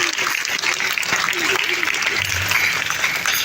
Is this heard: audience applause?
yes